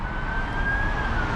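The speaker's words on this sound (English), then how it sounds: "watch the ambulance come by" A siren wails from an ambulance passing along a suburban street, one sustained, fairly loud tone over a dense rumble of traffic noise.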